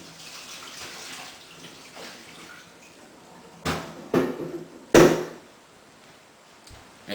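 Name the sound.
water being emptied off mozzarella curd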